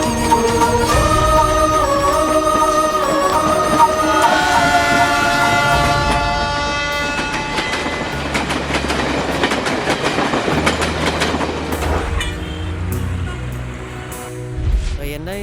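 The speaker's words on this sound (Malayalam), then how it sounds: "മേട്ടുപ്പാളയത്തിൽ നിന്ന് ചെന്നൈയിലേക്കുള്ള ദേവഗിരി എക്സ്പ്രസ് കുറച്ച് സമയത്തിനുള്ളിൽ പ്ലാറ്റ്ഫോം നമ്പർ 2-ൽ" Devagiri Express train pulling into platform 2 at a railway station, loud and close, with a long horn blast, rumbling wheels and rhythmic clickety-clack as the carriages roll past.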